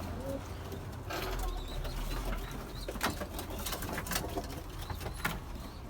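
Pigeons and doves coo softly inside a coop, low murmuring calls repeating at a distance amid faint rustling and background hiss.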